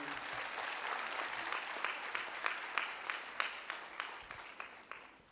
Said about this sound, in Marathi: आपण जोरदार टाळ्या वाजवून स्वागत करूया.